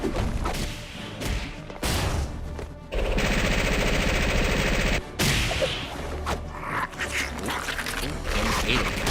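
Gunfire from Bane and Venom's fight in a Death Battle animation, loud bursts and cracks mixed with a dense, busy soundtrack and impact noises, with a voice talking over parts of it.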